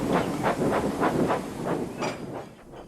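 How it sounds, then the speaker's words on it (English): A steam engine shunting a goods train: rhythmic chuffing bursts of steam about every quarter second, close and loud, with a hiss and a fading final puff. "He soon found himself being shunted onto Henry's goods train."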